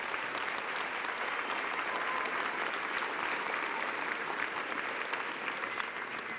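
Steady, dense applause from a school audience for the principals, even and unbroken throughout with no voices over it.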